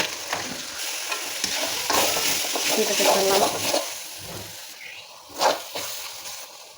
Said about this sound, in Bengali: বিরিয়ানি মশলাটা কষিয়ে নিচ্ছি